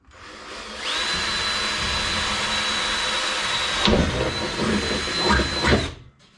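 A power drill whines steadily for several seconds while biting into aluminum on a boat, with a brief grinding surge near the end; close and loud, no talking.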